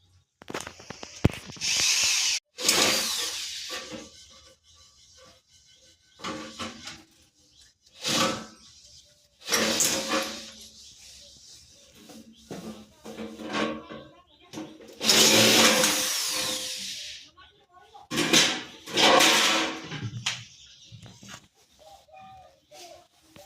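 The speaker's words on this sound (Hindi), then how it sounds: "जितने भी स्क्रू आपने खोल लेने हैं उसके बाद आपने इसे निकाल लेनी है।" A power tool backs screws out of a Voltas air conditioner unit in repeated short whirring bursts of a few seconds each, separated by pauses and clatter, fairly close and loud.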